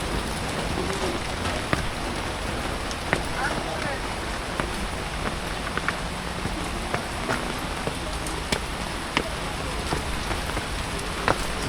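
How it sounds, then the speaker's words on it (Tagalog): Heavy typhoon rain pours steadily in Calamba, Laguna, a dense hiss dotted with sharp, scattered drip clicks throughout. "Ang lakas ng ulan."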